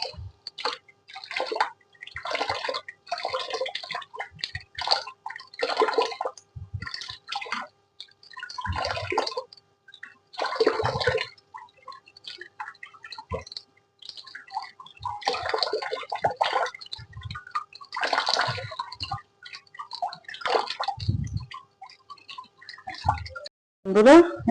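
Goat meat is washed under running water, with bursts of splashing and dripping that start and stop in irregular spurts, close by in a kitchen, while a voice occasionally speaks in between.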